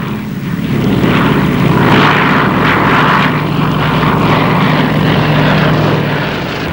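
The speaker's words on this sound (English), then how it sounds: "seen here launching a flight of Seafires" A Supermarine Seafire propeller fighter launching from the aircraft carrier HMS Implacable, a loud sustained engine roar with a steady drone that holds strong throughout and eases slightly at the end.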